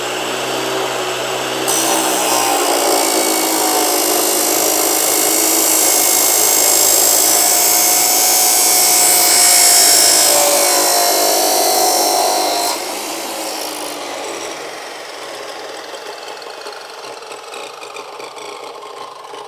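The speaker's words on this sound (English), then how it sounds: "You just press the switch inside, then the wheel will start rotating. As it rotates, we are able to cut the different materials" A chop saw's abrasive wheel spins up and bites into material, a loud, steady high-pitched grinding whine that holds for about eleven seconds, then cuts off, leaving a softer spin-down hum.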